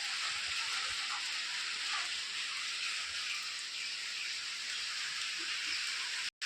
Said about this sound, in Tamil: மழை பெய்யுது பாருங்க